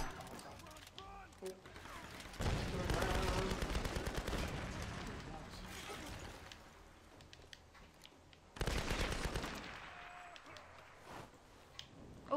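Bursts of gunfire from semi-automatic pistol and shotgun fights in the Tomb Raider video game ring out in loud clusters, with quieter gaps between them and a voice talking over parts of the action.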